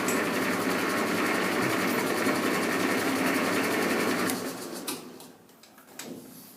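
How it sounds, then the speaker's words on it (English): A lathe runs steadily as a line boring tool winds along a bore, a dense mechanical whir with a fast rhythmic pulse that cuts off partway through, leaving quieter clicks and rattles. "I'm going to wind the tool through back to the other end."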